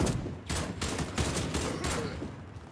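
Gunfire in the video game Warface, loud, dense bursts of rapid shots in several quick volleys, close and continuous with no talking over them.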